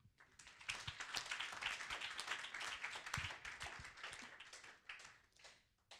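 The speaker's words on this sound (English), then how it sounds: "I would all invite you to give a round of applause." Attendees at a sanitation conference in Cape Town give a round of applause, dense clapping from a large audience sustained at an even level and thinning toward the end.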